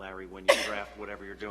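One sharp sneeze bursts out during a board of education meeting, brief and fairly loud, cutting into a man's ongoing speech, which continues around it.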